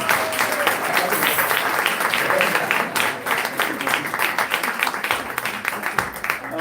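An audience at a spiritual class in Ljubljana applauds a helper, a moderately loud burst of many hands clapping that gradually thins and becomes more scattered toward the end.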